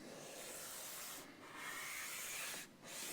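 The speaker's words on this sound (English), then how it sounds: "now I want to just gently sand it down" Sandpaper rubs gently across the adjustable nut of a Mexican-made Fender Stratocaster guitar, making a steady, close, hissing scrape that pauses briefly twice.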